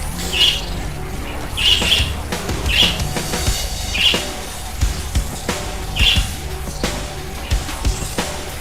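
Parrot squawking in the Saints Row IV video game, repeated harsh squawks every second or so over a dense, busy game soundscape with low thumps and music-like background.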